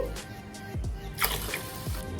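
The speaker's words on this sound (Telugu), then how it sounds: "ఒక గ్లాస్ రైస్కి టూ గ్లాసెస్ వాటర్ వేసుకోవాలండి" Water is poured from a glass onto washed rice in a cooking pot for Karnataka-style coconut rice, giving soft, close splashes and drips at a fairly low level.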